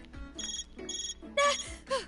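A phone rings in the Death End Re;Quest video game: a short electronic ringtone repeats in bursts of bright chiming tones, loud and close, with a few brief game sound effects between rings.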